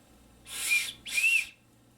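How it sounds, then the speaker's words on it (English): Two short, shrill blasts from a survival whistle sound close by indoors, the second slightly longer, with quiet in between. "it seems like an actual decent whistle"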